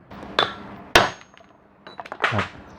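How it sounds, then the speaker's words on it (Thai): A hammer drives a bushing into the motor of a Hatari 18-inch fan, giving several sharp metallic strikes at uneven intervals, loud and close, with a quick cluster of lighter taps near the end. "เปลี่ยนบูททุกครั้งต้องตอก อัดเข้าไปนะครับ"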